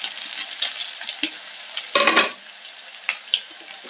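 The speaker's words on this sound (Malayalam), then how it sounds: "കടുക് പൊട്ടി അതിലേക്ക് ചുവന്നുള്ളി ചേർക്കാം." Mustard seeds and sliced shallots fry in hot oil in a kitchen pan. A soft, crackling sizzle carries light pops throughout, with a louder burst of sizzling about halfway through as ingredients are stirred.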